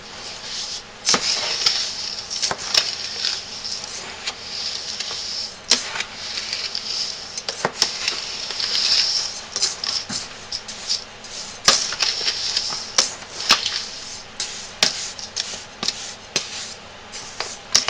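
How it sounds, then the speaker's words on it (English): Stirring baking soda while mixing a homemade sugar scrub, a steady run of scratchy scraping and rubbing strokes with sharp ticks and clicks, close and fairly loud throughout. "now we're going to stir that up"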